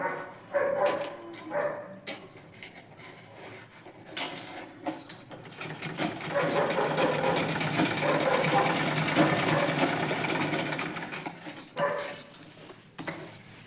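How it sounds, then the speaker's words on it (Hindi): A domestic sewing machine stitches along the edges of fabric cut from an old salwar, running in a few short bursts and then one long steady run, close and fairly loud, with a dog barking and whimpering in the background. "अभी हम इसमें इस तरीके से किनारी किनारी पर भी एक एक स्टिच लगाएंगे"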